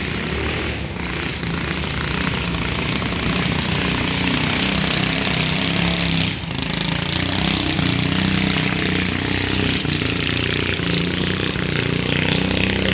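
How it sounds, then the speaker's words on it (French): A motorboat engine drones loud and close with a steady, rough mid-range roar that holds throughout, with no speech over it. "il va y avoir un bateau qui passe"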